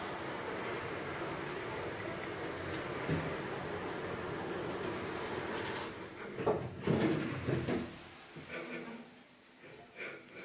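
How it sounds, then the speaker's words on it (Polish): A KONE EcoSpace elevator built in 2020 at a railway station in Wałbrzych, Poland, rolls its doors shut with a low sliding rumble and a few soft clunks, then settles toward quiet after a recorded voice announcement. "Zamykanie drzwi."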